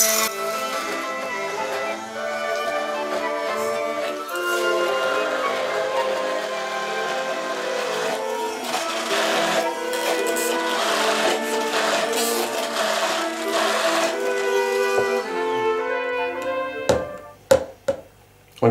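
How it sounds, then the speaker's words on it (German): Immersion blender pureeing fresh coriander with oil in a home kitchen, a loud continuous motor whir with shifting pitch as the blades churn, running steadily before cutting off near the end amid a few clicks and knocks. "jetzt wird es gleich ein bisschen laut, dann nehmen wir den Zauberstab"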